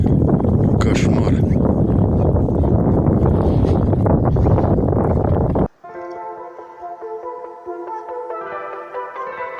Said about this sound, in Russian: Ветер просто ужас. Метет и метет.